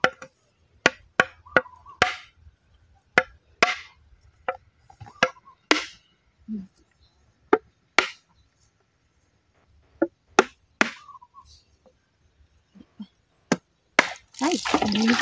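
A husked coconut, whose water is kept for vinegar, is split open by chopping: a dozen or so sharp, loud, close whacks land in irregular bursts, with people talking between strikes and liquid splashing near the end.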